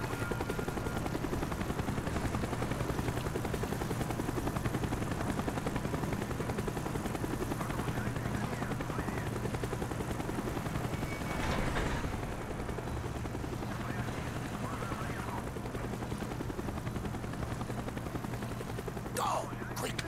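Steady, loud battle noise from a helicopter and gunfire in the Call of Duty: Black Ops campaign mission Rebirth. The rotor roar and shooting run continuously throughout, with a few sharper bursts over the dense wash.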